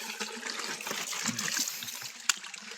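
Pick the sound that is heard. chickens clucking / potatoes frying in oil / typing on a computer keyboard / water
water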